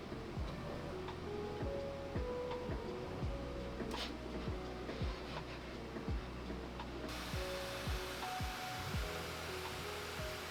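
Desktop 3D printer printing two lower foot brackets for acoustic panels at once, a steady whirring hum with repeated short stepper-motor sweeps and clicks, continuous and close, with no talking.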